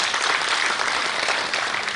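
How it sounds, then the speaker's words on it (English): Applause from a panel discussion audience, a dense, loud burst of clapping that holds steady throughout with no voices over it. "Let's give the three gentlemen another round of applause"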